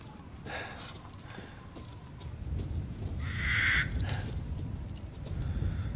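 Crows caw repeatedly in the environment of the horror video game Resident Evil Village. A louder burst of calls rises midway over a steady low ambient rumble, with fainter caws scattered around it.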